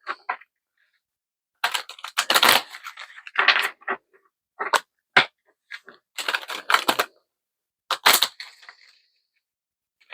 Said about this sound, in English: Now let's shuffle.